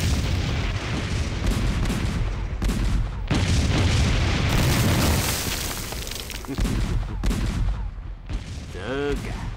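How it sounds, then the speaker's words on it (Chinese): Bombing and artillery fire in a Chinese war drama: a continuous barrage of heavy booms and explosions, loud and close, with bursts of gunfire and brief voices in the din. "我这里也遭到了轰炸"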